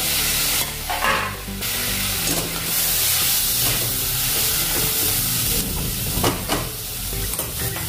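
Tomatoes hit fried onions in a pan for a wedding-style potato and eggplant curry, producing a loud, dense sizzle with repeated spoon scrapes and stirring clatter, close up with no voices.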